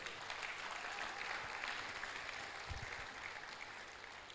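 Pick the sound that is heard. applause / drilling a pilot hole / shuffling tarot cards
applause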